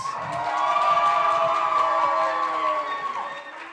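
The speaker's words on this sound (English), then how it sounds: "Listen to that crowd go wild." Spectators cheer and shout at a Pi Day pie eating contest as the winner finishes, a loud sustained crowd roar lasting several seconds with a voice or two rising above it.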